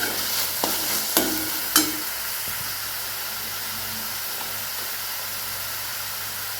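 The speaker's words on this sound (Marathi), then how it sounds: "मिक्स करून घ्यायचे आणि छान असं परतून द्यायचे." Tomatoes with salt are stirred and sautéed in a pan, giving a steady close hiss of frying. A few sharp utensil knocks come early, then an even sizzle continues alone.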